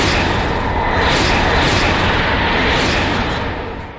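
An anime battle explosion from One Piece bursts in a loud, dense blast with crackling debris, sustained and rumbling before tapering off at the end, with no speech.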